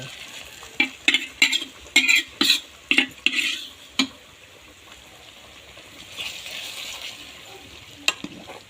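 Fried garlic tipped into simmering pork rice porridge and stirred, a series of quick scraping, sizzling strokes in a pot, then a softer bubbling stretch with a couple of clicks.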